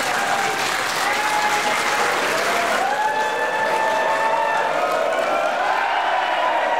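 A wrestling crowd applauds loudly and steadily, a dense wash of clapping with rising cheers and whistles filling the arena.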